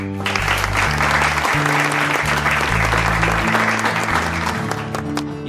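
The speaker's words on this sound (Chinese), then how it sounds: "大家掌声鼓励" An audience at a student performance claps loudly in sustained applause, a dense continuous patter that holds for several seconds, mixed with stage background music.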